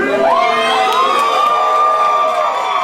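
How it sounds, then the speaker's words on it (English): A wrestling crowd cheers and shouts loudly in an arena, a dense, sustained roar with high, excited voices calling out throughout. "And the crowd is definitely behind Julian Kelevra and not Jude Mackenzie."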